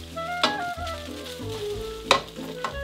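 Egg and cheese mixture being stirred through hot spaghetti in a pan for carbonara, a close, steady scraping and soft sizzle with a few sharper utensil knocks against the pan.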